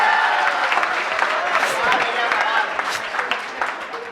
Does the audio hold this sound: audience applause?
yes